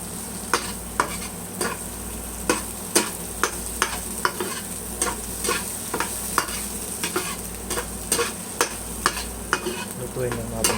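Tomatoes sauté with golden-browned garlic in a pan for a cabbage-and-egg dish, a steady sizzle under regular spatula scrapes and taps about every half second.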